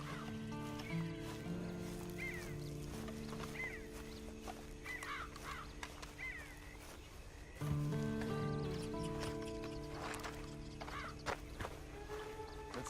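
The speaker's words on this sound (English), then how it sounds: "And you better get on this horse." Horse in the Red Dead Online video game, with hoof clip-clops and snorts mixed among crowing fowl and other farmyard animal calls under quiet ambience.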